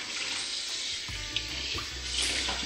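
Cold tap water runs steadily into a sink while raw chicken is rinsed, with splashing and a few knocks and thumps as it is handled, close and continuous.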